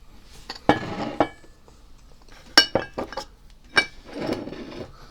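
A vintage carnival glass trinket dish from a garage sale, marigold in color, handled on a surface with scattered sharp clinks and taps, a few louder knocks and softer rattling in between, no talking.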